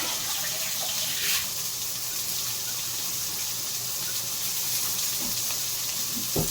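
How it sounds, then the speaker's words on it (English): Purified water pours steadily from a cup into rice for dirty rice, a close, constant watery gush with no pauses and no talking. "We're going to be putting 1 cup of water, purified water, or 237 milliliter of water."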